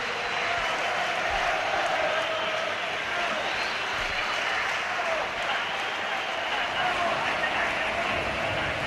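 Home football crowd at Portsmouth's FA Cup quarter-final against Arsenal applauds the winners at full time, a broad, steady roar of clapping and crowd noise that carries on unbroken, with a commentator's voice over it.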